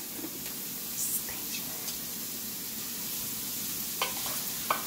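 Beef browning in a pan for beef stew, a steady broad sizzle and hiss with occasional scrapes and taps of a wooden spatula stirring, moderately quiet and close.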